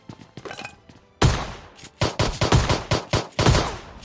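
Gunfire in PUBG Mobile Lite: a few light shots, then a loud burst followed by rapid repeated bursts of automatic fire, sharp and close with brief gaps between volleys.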